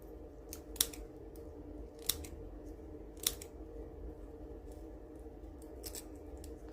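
Several sharp scissor snips trim paper at irregular intervals, close up over a quiet background hum, while making DIY mini jam jars.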